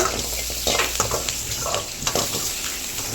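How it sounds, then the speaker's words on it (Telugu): Cashews, green chillies and onions fry in hot oil in a kadai with a steady close sizzle, broken by the occasional scrape and stir of a spatula. "ముందుగా ఒక కడాయి తీసుకొని స్టవ్ పైన పెట్టుకొని కొద్దిగా ఆయిల్ వేసుకోవాలి నెక్స్ట్ అలానే జీడిపప్పు పచ్చిమిర్చి అండ్ అలానే ఆనియన్స్ కూడా వేసి వేయించుకోవాలి"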